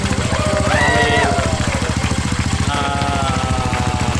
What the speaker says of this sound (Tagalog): napakabilis mag-start yung ating motor.